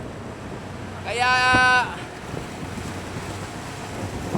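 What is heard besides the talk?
big ocean waves and wind heard from a fishing boat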